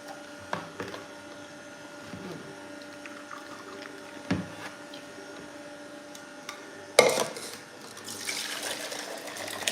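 Green juice from a morning routine pours straight into a big jug, a steady liquid stream with faint clinks, growing louder and splashier near the end.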